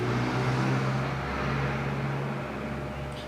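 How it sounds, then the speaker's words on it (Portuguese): A loud, noisy car passes close by outdoors, its steady rumbling engine drone filling the whole stretch with no voices over it. "Tem que passar carro barulhento aqui, incrível, meu Deus."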